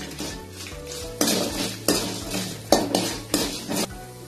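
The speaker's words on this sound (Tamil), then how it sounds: "இது எல்லாத்தையும் போட்டு நல்லா வதக்கிக்கோங்க." Dried red chillies, asafoetida and garlic sauté in a pan, with bursts of sizzling and a utensil scraping and clinking against the metal several times in an uneven rhythm, close and moderately loud, with no talking.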